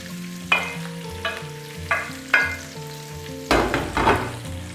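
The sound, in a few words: stirring and tempering green chili, onion and Maldive fish chili in a pan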